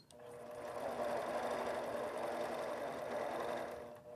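A longarm quilting machine stitches fabric in a quick, even mechanical whir, close and fairly quiet, running continuously for a few seconds with no talk.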